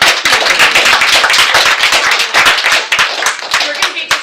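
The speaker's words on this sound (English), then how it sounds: "Can we have a round of applause for Gayner?" An audience claps for the artist Gayner at an evening art event, a dense burst of handclaps ringing out loud and close through the whole stretch, with some voices mixed in.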